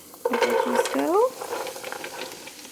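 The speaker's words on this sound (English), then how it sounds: "So into the pot the veggies go." Vegetables going into a pot of heated olive oil and sautéing, a soft sizzle with clinks of the pot and stirring, partly under a voice talking near the start.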